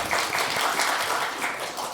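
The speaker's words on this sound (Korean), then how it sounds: "다 같이 한번 박수 한번." Korean church congregation clapping together after thanks to an elder, a short burst of dense, rhythmic group applause filling the sanctuary.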